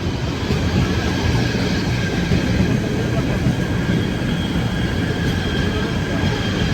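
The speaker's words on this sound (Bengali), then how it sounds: "এটা আমাদের ট্রেন না আমাদের ট্রেন আমাদের প্ল্যাটফর্মে আসবে" A train rumbles loudly and steadily nearby at a station platform, with a constant roar of wheels on track and faint rhythmic clatter.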